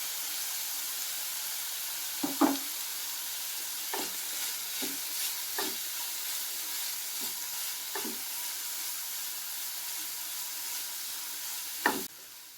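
Chopped tomato and other vegetables sauté in a pan for egg kuzhi paniyaram, with a soft constant sizzle broken by scattered sharp clinks and scrapes of a spoon stirring.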